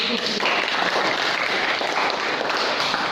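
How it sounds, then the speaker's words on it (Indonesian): A classroom audience applauds a student's presentation with steady, dense clapping that stays loud and even for a few seconds. "tepuk tangan dulu"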